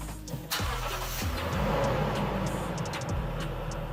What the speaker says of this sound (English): a little hidden selling feature that's really advertised on the GX is the startup sound and how it roars as you fire it up